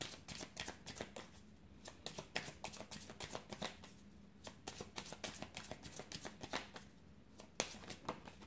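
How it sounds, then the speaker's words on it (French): Tarot cards are shuffled by hand in a quiet room, a continuous soft flutter of rapid riffling and sliding card noises, faint and close, with no talking. "je vais mélanger les cartes comme je vous ai dit"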